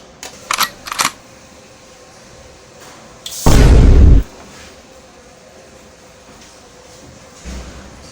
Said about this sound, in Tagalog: Ang lakas ng bidet.